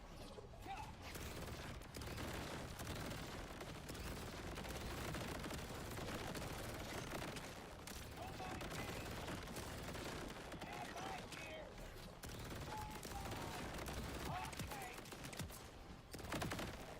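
Automated turrets in a multiplayer shooter game fire dense, sustained bursts of rapid gunfire lasting throughout, with a steady layer of mechanical battle noise underneath.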